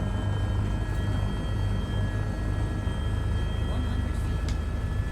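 Constant thudding helicopter rotor drone with a steady engine whine, loud and unchanging throughout, from a firefighting helicopter hovering in Microsoft Flight Simulator.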